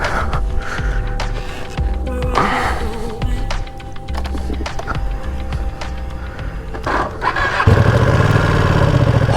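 A Ducati Panigale V2 motorcycle engine cranks and fires up close by, settling into a loud, steady idle with a deep low rumble after a few seconds of rattly mechanical noise.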